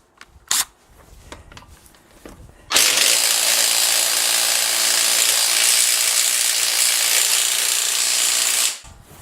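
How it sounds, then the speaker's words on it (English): Tools work on a car wheel of an R53 Mini: a few faint clicks and handling noises, then a loud, continuous whirring power-tool burst lasting about six seconds before stopping abruptly. "take the wheel off"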